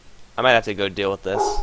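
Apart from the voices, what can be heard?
dog barking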